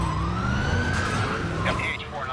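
A police siren from the racing game Need for Speed Undercover wails steadily beneath dense engine roar during a chase, loud and continuous throughout with no clear talking.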